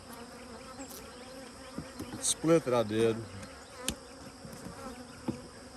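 Honey bees buzz steadily around a beehive deep box at an apiary, a low continuous hum with someone talking briefly in the middle.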